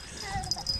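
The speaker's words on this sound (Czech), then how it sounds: "Ty máš tady takovýho pejska, jo?" A small dog whimpers in short, thin whines during a brief moment outdoors in a Czech village, close by, with a person's voice nearby.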